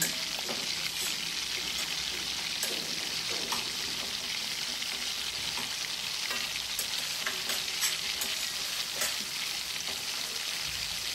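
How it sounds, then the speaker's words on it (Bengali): A katla fish head and a small tomato fry in a pan, producing a steady moderate sizzle with scattered crackles and spits, with no talk over it. "এটা একটু ভাজা হোক, একটু golden brown, light golden brown হলেই আমি বাকিটা অ্যাড করবো"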